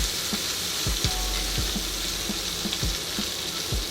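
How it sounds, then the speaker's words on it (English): Butter sizzling in a frying pan with pancake batter, a continuous close hiss with soft intermittent pops and spatters. "You add butter into your pan so that it starts to melt around the edges"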